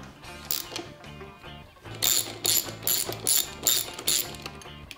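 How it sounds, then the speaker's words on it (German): A ratchet turning a 19 mm socket works loose the clutch nut on a Vespa scooter, giving close, rhythmic metallic clicking in repeated strokes with louder rasping bursts in the second half. "Dann nehme ich meine Ratsche mit 19er Nuss und dann machen wir das Ganze auf."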